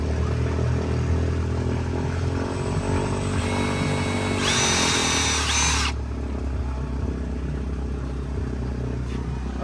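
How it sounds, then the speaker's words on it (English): A power drill whines continuously into metal around a bolt on a BMW B58 engine intake manifold, loud and close, the pitch rising sharply for a moment mid-cut before settling to a lower hum. "So it needs a bit more of a drill to actually fit in there."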